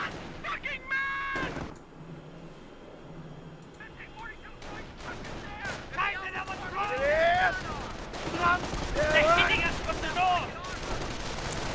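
Gunfire and bursts of battle noise from the World War II strategy game Company of Heroes, with artillery among the clatter: repeated sharp reports and rumbling impacts under a lively commentator's voice throughout.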